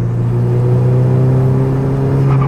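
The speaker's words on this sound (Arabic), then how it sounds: "صوت الشكمان حاد جدا وعايزه تجري جدا" Volkswagen Jetta, the fastest in Egypt, revving hard with a sharp, raspy exhaust, a loud steady drone up close with no talk over it.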